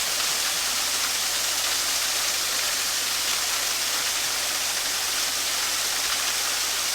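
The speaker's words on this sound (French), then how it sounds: "On appelle ça une cascade en spaghetti, en filet." Thin streams of water in a thread-like cascade falling onto rock in a historic Japanese garden, a continuous bright splashing rush with a steady level throughout, close by and without voices.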